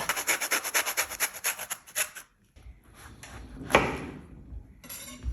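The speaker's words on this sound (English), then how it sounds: "what we're gonna do is add a little bit of orange zest." Orange zest is grated in rhythmic, scratchy rasping strokes, close and fairly loud, followed by a pause and a few softer scrapes.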